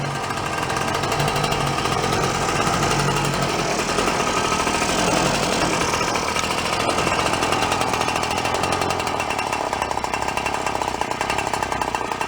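An engine-powered bicycle runs loud and close, a continuous harsh buzzing drone with a rattly tone that holds steady throughout.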